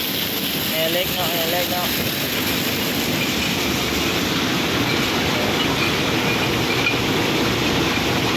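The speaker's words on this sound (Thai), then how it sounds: "เสียงเครื่องล้างแห้งเขามันดังเนาะ" An iron ore washing machine runs loudly, a steady, dense mechanical roar that fills the whole stretch without a break, with a faint voice briefly audible beneath it.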